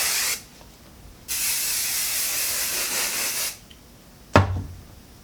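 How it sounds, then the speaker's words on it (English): Hairspray from an aerosol can sprays onto styled vintage waves in two bursts, a short hiss followed by a longer steady spray of about two seconds, close and loud, then a brief thud. "now I'm just gonna add a little bit more of hairspray to make sure it all stays in place"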